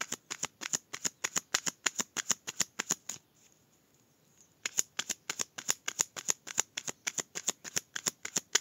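Tarot cards being riffled and shuffled by hand, a fast regular flutter of crisp card snaps, close and clear, pausing for about a second and a half before resuming.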